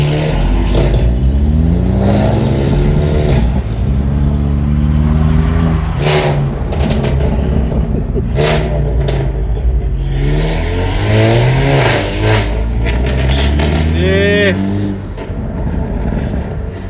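A modified Hyundai Elantra N engine revs loudly and repeatedly, pitch sweeping up and down in bursts, with short shouted voices over the roar.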